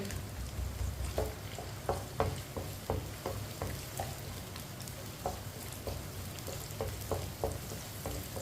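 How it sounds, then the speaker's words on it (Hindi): Finely chopped onion fries in oil in a pan as a spoon stirs it, giving a steady soft sizzle close by with scattered light scrapes and taps of the spoon against the pan. "प्याज को इसी तरह चम्मच चलाते हुए ब्राउन करना है"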